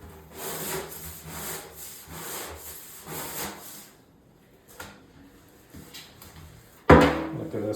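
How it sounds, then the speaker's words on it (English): Brush scrubbing along bathroom grout lines to lift black grime, a steady rhythmic back-and-forth rubbing close by that pauses midway, then resumes with a louder burst near the end. "anything you see that's black, you want to scrub that"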